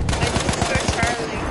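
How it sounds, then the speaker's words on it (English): Rapid machine gun fire in the World War I shooter Battlefield 1, a loud steady burst of evenly spaced shots running the whole moment over a busy battlefield din. "I think the gunfire might be coming from the second floor, possibly."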